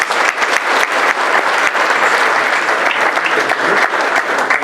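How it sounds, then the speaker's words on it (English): Audience applause for volunteers at a live talk on negotiation, dense, lively clapping from a roomful of people, loud and continuous. "Round of applause, please."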